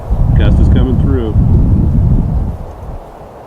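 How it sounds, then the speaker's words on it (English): A strong gust of wind buffets the microphone outdoors at a rifle shooting range, a loud low roar that swells and then eases off after a couple of seconds. "Gust is coming through."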